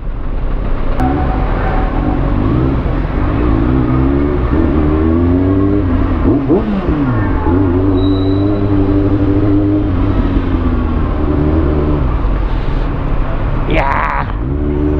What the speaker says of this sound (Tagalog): Traffic, grabe